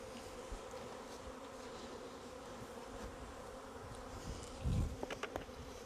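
Honey bees buzz in a dense, steady drone while two hives are merged, with a few louder close passes near the end and no talk.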